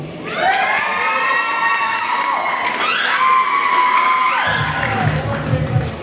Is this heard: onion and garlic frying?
no